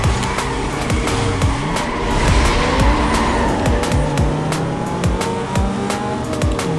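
A race car in the PS2 game Need for Speed: Most Wanted, its engine revving hard and loud throughout while tires squeal and skid repeatedly through turns, with no voices.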